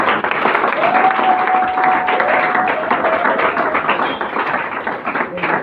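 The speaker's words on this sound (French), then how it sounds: "Acclamons pour la parole" A church congregation at a Sunday service applauds loudly and continuously, with a brief whistle-like cheer rising above the clapping early on.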